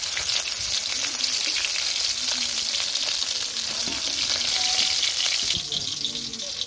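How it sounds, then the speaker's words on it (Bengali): Fish frying in hot oil, a loud, continuous close crackling sizzle with occasional spatters, easing slightly near the end, with faint voices underneath. "মাছটা ভাজা হয়েছে নামিয়ে নিই"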